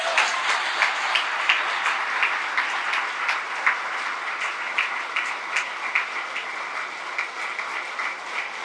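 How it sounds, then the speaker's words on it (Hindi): A congregation in a prayer hall claps in a steady, dense wash of applause that holds at an even level throughout, with occasional sharper claps standing out. "आपकी तालियां बताएंगे।"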